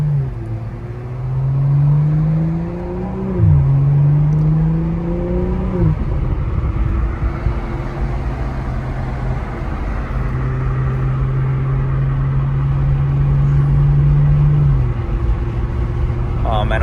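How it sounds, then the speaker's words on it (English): BMW M340i engine revving with an exhaust note that rises and falls, loud and close from inside the car, sustained over the whole stretch; the small backfire pops are not clearly separable. "You hear the little backfires? Bro, that sounds sick."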